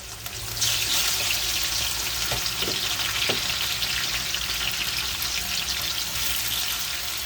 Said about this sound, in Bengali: তেলটা গরম হয়ে গেছে এখন পেঁয়াজ দিয়ে দিলাম